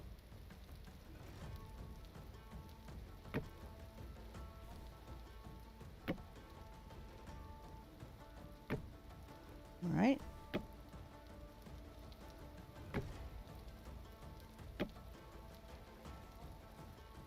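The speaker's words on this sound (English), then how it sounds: "Sounds like it's raining." Rain in the video game Vintage Story, a soft, steady patter of drops on surfaces throughout, with occasional louder taps and clicks from building, and someone speaking briefly over it.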